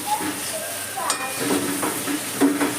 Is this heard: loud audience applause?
no